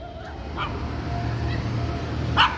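A couple of short dog barks or yips ring out over a low background hum, one early and one sharper near the end.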